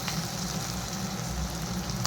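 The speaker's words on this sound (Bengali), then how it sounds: "এখন ভালো করে এগুলো ভেজে নেব।" Onions frying in oil with dried red chillies, bay leaves, cloves and cardamom for an egg korma, a steady close sizzle with faint bubbling running evenly throughout, no voices.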